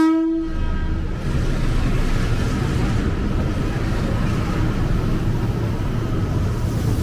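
A KRL commuter train passing straight through on track 3 at Manggarai station in Jakarta, opening with a short horn blast and then a loud, steady rolling roar of wagons close by.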